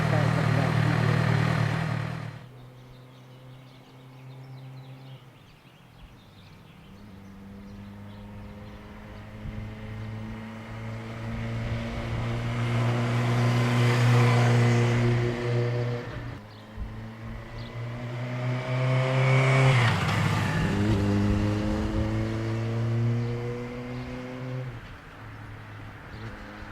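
A 600cc sports motorcycle rides up and down a street, its engine note rising and falling through several passes and revving as it accelerates, with a quieter idle between runs and a voice speaking at times.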